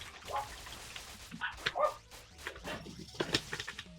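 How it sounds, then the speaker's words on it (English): Dogs barking indoors, a few short yips and barks scattered over a few seconds at moderate distance, with faint game sounds behind. "Also, yes, I do have dogs."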